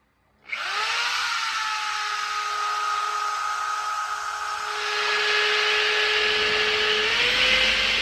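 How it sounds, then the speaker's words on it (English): A hand drill with a small bit spins up sharply and whines steadily at high pitch, rising a little in pitch partway through as it bores the hole, loud and close with no talk. "I'm using a small drill bit first, so that I could easily drill the bigger hole"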